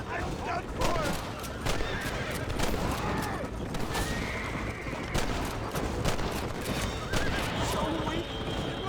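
Scattered gunshots in a Red Dead Redemption Western shootout, with horses whinnying and hooves clopping nearby, the shots fairly loud and irregular, over game voices.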